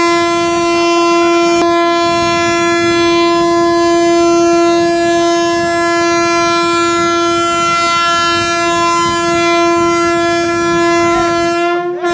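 A Vande Bharat Express train sounds a long, loud, steady horn. The tone holds for about twelve seconds alongside rail noise and ends with a burst of clatter.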